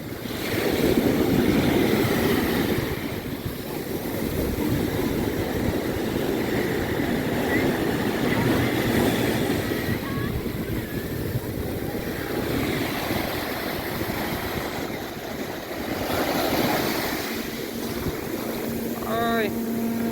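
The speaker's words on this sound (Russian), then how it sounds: "Волны все так же большие последние 2 дня." Large ocean waves break and wash onto the beach at Cancun in the evening, a continuous loud roar of surf with gusty wind noise across the microphone.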